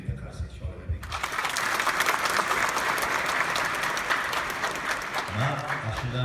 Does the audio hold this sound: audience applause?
yes